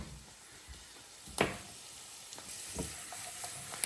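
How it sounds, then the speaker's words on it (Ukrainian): Onion and bell pepper fry gently in a pan for shakshuka, a soft, quiet sizzle with a few spoon taps and scrapes, close and without speech. "Чекаємо, щоб цибулька ще трішки просмажилась"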